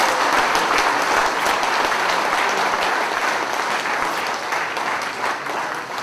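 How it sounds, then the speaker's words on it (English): A hall audience at a 2011 AFC campaign launch applauds itself, dense sustained clapping that stays loud and even throughout with no break. "I want, therefore, to ask you to applaud for yourselves"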